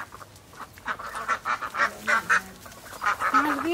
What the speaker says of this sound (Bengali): হাঁসগুলা ঠিক একদম বাড়ি চিনে নিল